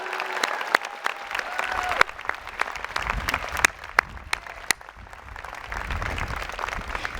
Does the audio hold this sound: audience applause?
yes